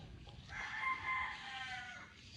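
A Straight Gilmore gamefowl rooster crows once, close and clear, a drawn-out cock-a-doodle-doo lasting about a second and a half over quiet farmyard background.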